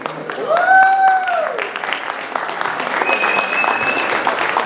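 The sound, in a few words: audience applause at stage event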